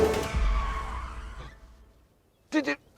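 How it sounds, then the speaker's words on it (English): Tyres squealing as a Bentley slides on tarmac, a loud sustained screech fading out over about a second and a half, followed by a brief burst of voices near the end. "That was tyre squeal from James May."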